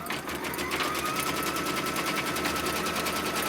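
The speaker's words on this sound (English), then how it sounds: "And so it's going to stitch that placement line for everything first." An embroidery machine stitches a placement line on fabric in a hoop, a rapid, even mechanical chatter running steadily and close without pause.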